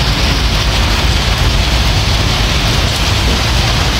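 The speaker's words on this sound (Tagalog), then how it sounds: "Takbo kasi naulan." Steady rain falls outdoors as a dense, even hiss of drops across all surfaces, loud and unbroken throughout.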